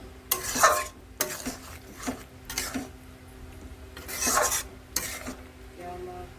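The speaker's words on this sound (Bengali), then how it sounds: "নেড়ে চেড়ে নামিয়ে নেবো।" Kochur loti, a taro stolon dish, stirred in a pan in several separate scraping strokes, close and fairly quiet over a faint background hum with music.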